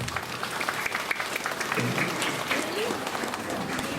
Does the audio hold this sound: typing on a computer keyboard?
no